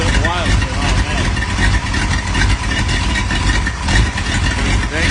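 A Ford 59AB flathead V8 on an engine stand, fitted with a lumpy cam, idles loudly and close with an uneven loping rumble that runs throughout, while people talk over it.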